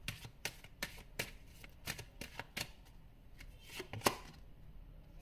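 A deck of tarot cards is shuffled up close, giving a series of quick crisp riffling snaps and flutters in an uneven rhythm, fairly quiet with no voices.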